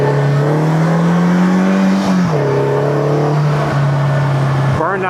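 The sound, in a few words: Polaris Slingshot three-wheeler driving and revving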